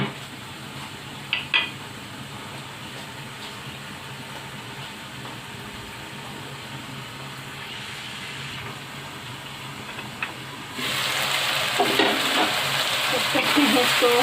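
Onion and chicken fry in a pan with a continuous sizzle and occasional stirring clinks, and the frying swells noticeably louder and brighter near the end.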